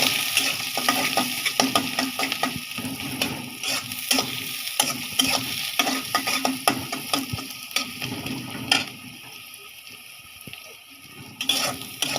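Dried ribbonfish (churi shutki) sizzles in a pan while a spatula stirs it, with a crackling frying hiss broken by frequent scraping clicks and taps against the pan, and no talking.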